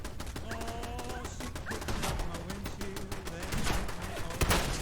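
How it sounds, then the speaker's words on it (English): Gunfire in the post-apocalyptic game Fallout 4 crackles as a steady stream of sharp, closely spaced shots over a busy backdrop, with a few pitched tones running beneath and one louder blast near the end. "Stop shooting at me."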